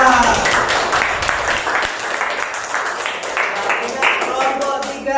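Classroom applause for a student group presenting a lesson on food in an Islamic education class: a steady wash of many hands clapping, moderately loud, with voices talking and calling out over it.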